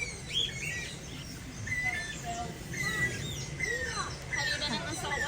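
A pet cockatiel chirping in short bright tweets and whistles at close range, scattered over a noisy background while people talk.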